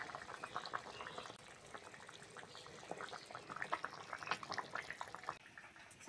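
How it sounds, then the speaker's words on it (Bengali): A thin Bengali fish curry broth with papaya and potato bubbles steadily in a pot, producing a continuous close-up stream of small irregular pops and gurgles with no voices. "ঝোল ভালোভাবে ফুটে গেছে"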